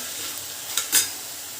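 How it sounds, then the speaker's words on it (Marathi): Chopped peas and carrots frying in oil, a soft steady sizzle with two quick stirring scrapes of a utensil close by, short and without talk. "मटार गाजर बारीक करून बारीक तुकडे केले ते पण छानपैकी तेलामध्ये फ्राय करून घ्यायचे आहेत आपल्याला"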